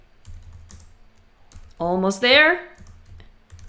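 Soft keystrokes on a computer keyboard tap in short bursts close by, with someone speaking briefly in the middle.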